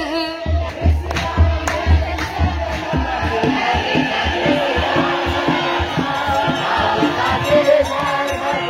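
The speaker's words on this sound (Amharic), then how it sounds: "እልል እያላችሁ እያመሰገናችሁ እልል በሉ" Crowd at an Ethiopian Orthodox church celebration ululating in waves, high trilling voices rising over a background of talk and shouts, loud and continuous throughout.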